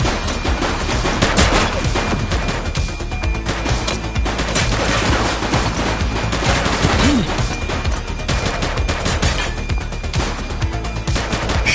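Dense, loud gunfire fills a Madden 24 game scene: rapid overlapping shots and bursts that run without pause throughout, with no speech.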